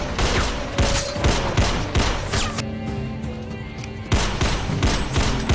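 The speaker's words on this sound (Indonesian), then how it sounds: "Sampai akhirnya baku tembak pun tak terhindarkan." Rapid bursts of gunfire from a film shootout with a terrorist in a mall parking lot, loud and dense, pausing briefly midway before another volley cracks out.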